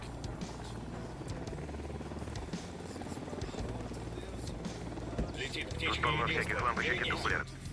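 A helicopter in Ghost Recon Wildlands drones with a steady low rotor hum that grows louder near the end, while someone talks over it.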